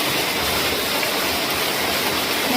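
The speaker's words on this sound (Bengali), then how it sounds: "এখনো একটানা বৃষ্টি হচ্ছে।" Steady rain falls without a break, a dense even hiss that fills the background with no gaps.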